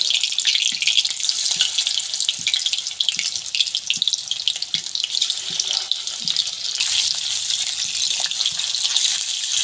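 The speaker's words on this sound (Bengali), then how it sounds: "কড়াই তেল বসিয়ে দিয়েছি তেলটা আমার গরম হয়েছে আমি এবার মাছগুলো ভেজে নেব" Fish frying in hot oil in a kadai, giving a steady, dense crackling sizzle throughout with small pops, close and fairly loud, with no talking.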